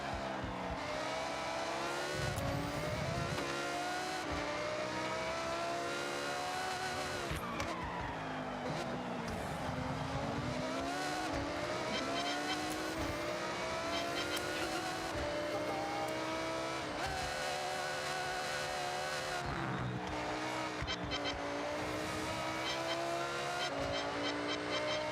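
A Hummer driven around a race lap in GTA Online, a continuous loud engine roar with rising and falling revs as it shifts and accelerates, and tire squeals and skids running throughout.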